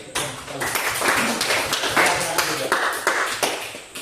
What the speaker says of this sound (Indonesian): Berikan aplaus lagi.